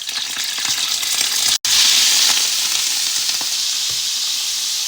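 Pork pieces frying in hot oil in a home kitchen, a loud steady sizzle filling the whole clip with a brief cut near the middle and occasional stirring scrapes.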